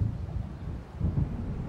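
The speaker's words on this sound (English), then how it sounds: "It seems there's a storm coming." Thunder from an approaching storm in the video game Alan Wake rolls as a low, heavy rumble that swells twice over a couple of seconds, with no voices.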